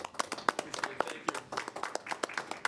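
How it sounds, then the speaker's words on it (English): A small audience at a city council meeting claps in a light, scattered round of applause, sharp individual hand claps heard fairly close and moderately quiet. "clap and gavel."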